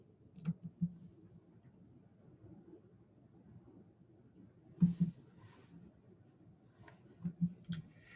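Computer mouse clicks sound as a few sharp, soft taps in small pairs and groups, close but faint over a quiet room hiss, with no talking.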